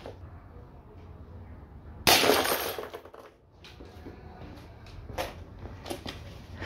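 Glass shatters as a steel BB from a Colt 1911 air pistol hits it, one sharp loud burst of breaking glass followed by scattered tinkling debris.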